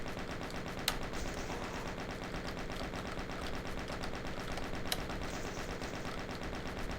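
Rapid, dense automatic fire from modded weapons in Garry's Mod rattles on continuously and loudly, with a couple of sharper single reports cutting through the stream of shots.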